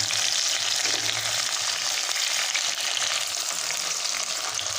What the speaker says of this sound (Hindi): अच्छी तरह से हम टमाटरों को यहाँ पे इसमें पका लेंगे, ये अच्छी तरह से गल जाएंगे 1 से 2 मिनट तक।